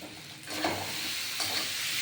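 Powdered spice sautéed and stirred in a hot pan gives a continuous close sizzle with soft scraping swells of stirring and no talk.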